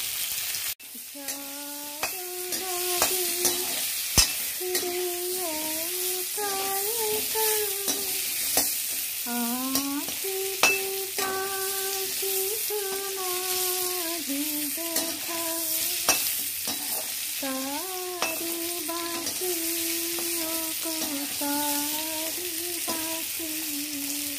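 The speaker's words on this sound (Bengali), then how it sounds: "পটল যত ভালো ভাজবি তত স্বাদিষ্ট হবে, টেস্টি হবে। হালকা একটু নুন দেবো আর একটু হলুদ দেবো।" Pointed gourd (potol) slices seasoned with salt and turmeric fry in a pan, a constant bright sizzle broken by repeated stirring scrapes, with faint singing-like tonal sounds drifting in the background.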